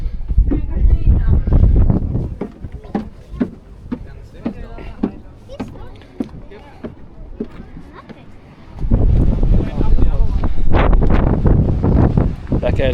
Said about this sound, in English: Back out into the wind